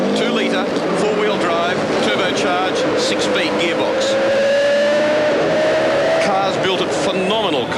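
A 2-litre turbocharged four-wheel-drive rally car with a six-speed gearbox screams at high revs on a special stage, its engine pitch climbing and shifting under continuous loud commentary.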